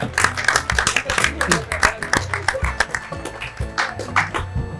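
Live audience applause at a beer painting event, dense clapping with loud bursts rising and falling throughout, mixed with voices talking over it.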